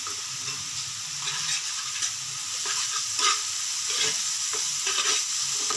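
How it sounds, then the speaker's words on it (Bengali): Pabda fish curry with green chillies cooking in hot oil, a steady close sizzle and frying hiss with soft stirring scrapes running through it. "ভালো করে কষে নেব"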